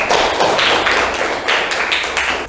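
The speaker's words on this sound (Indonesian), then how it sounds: "Nah, tepuk tangan anak-anak." Children in a classroom clap together in quick rhythmic bursts, a lively patter of hand claps close by and fairly loud, with no talking.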